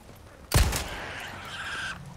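A single sharp gunshot cracks out in Resident Evil 4 Remake, followed by a lingering echoing tail and a faint squealing cry from a shot pig, fairly quiet overall.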